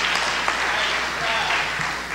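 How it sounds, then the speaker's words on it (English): An audience at an evening talk gives a steady round of applause, dense continuous clapping filling the whole moment with faint voices mixed in. "let's give these brothers a round of applause"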